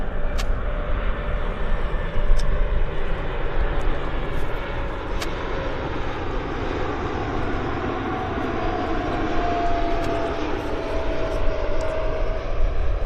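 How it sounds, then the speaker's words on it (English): A new Qantas Airbus A220 airliner on a ferry flight taxis at Vancouver Airport, its jet engines giving a steady, loud whine and rumble that holds evenly throughout without talk. "QANTAS Airlines A220 being ferried through Vancouver on its way down to Australia."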